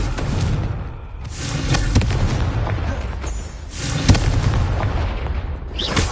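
A Confringo fire spell explodes in the Hogwarts Legacy video game: a dense, rumbling blast fills the scene, with a couple of sharper thuds standing out from the continuous roar.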